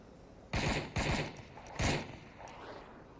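Gunfire in the VR shooter Onward: three loud, sharp bursts of a few rapid shots each, close by, followed by a fainter trailing shot.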